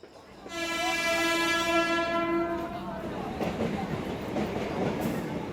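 A train horn sounds, a long, loud chord held for about two seconds, then wheels clatter along the rails in steady rhythm as the train rolls on, used as a sound effect in a Bengali audio drama.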